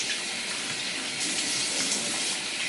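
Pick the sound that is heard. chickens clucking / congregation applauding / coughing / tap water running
tap water running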